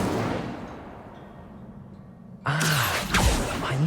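A fire spell, Incendio, cast in the video game Hogwarts Legacy: quiet ambience gives way to a sudden loud burst of whooshing, crackling flame with rising and falling magical tones.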